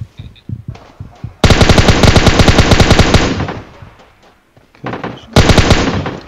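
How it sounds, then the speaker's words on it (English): Automatic gunfire in PUBG Mobile rattles in loud, rapid bursts, close and dominant, with a pause between volleys and a few single shots before the first burst. "they're shooting at me"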